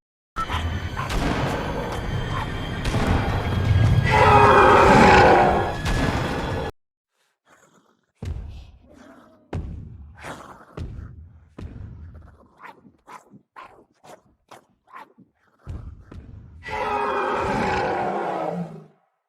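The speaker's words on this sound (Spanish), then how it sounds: "ambos rugidos suenan exactamente iguales" The Fortnite roar emote on the Rex dinosaur skin plays as a video-game sound: long, loud roars open and close the sequence, with a string of short, punchy growls and snarls in between and silent gaps separating them.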